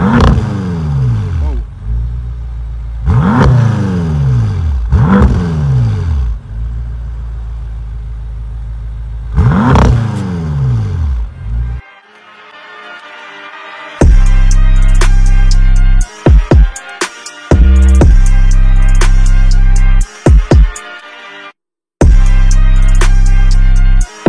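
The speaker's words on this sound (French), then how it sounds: "Là on passe au petit revs de la voiture." A BMW M6 F12 convertible's engine is revved in repeated bursts, first rising and falling throttle blips, then louder sustained roaring revs with short breaks between them, heard close and without talk.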